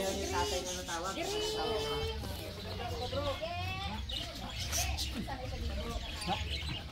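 Bird calls ring out repeatedly in short rising chirps and warbling phrases, fairly close, over a constant low background hum, with occasional human voice in the mix.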